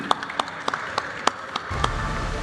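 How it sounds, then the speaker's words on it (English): At a Bitcoin conference, the audience gives a short burst of applause for panel speakers: a handful of distinct, spaced claps ringing out, then a low background rumble takes over. "big applause for our speakers here"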